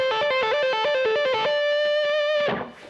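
A musician plays a quick run of example notes through an effects unit, giving a bright, distorted tone. The run ends on one long sustained note that fades and cuts off.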